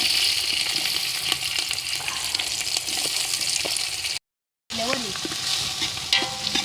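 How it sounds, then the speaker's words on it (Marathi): Onion and capsicum frying in oil in a pan for pav bhaji, a close, steady sizzle with stirring scrapes, briefly cut to silence before sizzling resumes with clinks. "आता कांदा टाकते आणि शिमला मिरची,"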